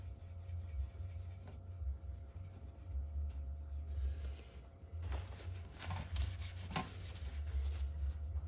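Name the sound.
wiping PS4 part clean with rubbing alcohol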